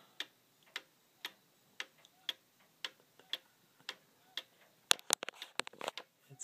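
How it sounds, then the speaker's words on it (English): An 1885 Black Forest German cuckoo clock with bone hands ticking in a steady, even rhythm of crisp close clicks, about two per second, followed by a quick jumble of louder clattering knocks near the end. "Black Forest German Cuckoo clock."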